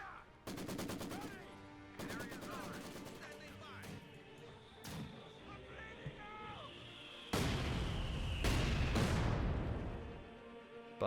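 A mortar barrage in the Company of Heroes 2 video game sounds as repeated loud bursts of shelling and gunfire, with blasts and a swelling rumble of explosions; no talk is heard.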